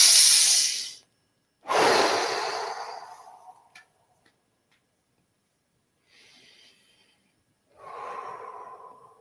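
Slow, deep breaths taken during a guided shamanic breathwork session. Each long, close, airy inhale and exhale is separated by a few seconds of silence.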